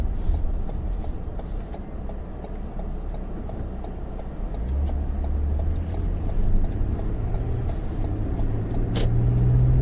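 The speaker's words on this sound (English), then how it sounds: "driving the 2015 Lexus ES350" A 2015 Lexus ES350 under way, a steady low road and engine hum with light ticking from inside the cabin, moderately loud and continuous, swelling slightly toward the end with no voices.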